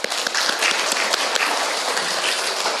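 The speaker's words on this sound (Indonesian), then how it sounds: "Tepuk tangan." An audience at a Quran graduation ceremony at an Islamic elementary school in Semarang claps steadily, a dense, even wash of applause filling the whole moment.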